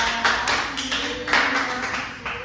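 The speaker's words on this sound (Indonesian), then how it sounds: "Beri tepuk tangan untuk primadona kelas kita ya." Scattered clapping from a classroom of students, a few loose bursts of hand claps at an uneven rhythm, moderately near and fairly light, with no talk over it.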